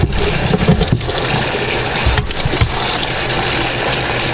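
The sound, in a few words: brushing and rinsing cleaner off carburetor parts with water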